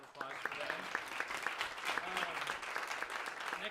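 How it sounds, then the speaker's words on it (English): Audience at a jazz band concert applauding, a dense burst of clapping from a modest crowd that carries steadily throughout with some voices mixed in. "give a round of applause for them"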